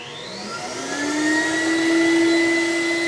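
A battery-powered SD15 Sump Shark vacuum pump sucking fluid out through a filter into its tank, a steady close whine that rises in pitch and volume before holding a loud, even drone.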